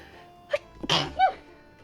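A human sneeze, a short sharp burst after a small preceding intake, then a second explosive sneeze a moment later, close and fairly loud with no talk.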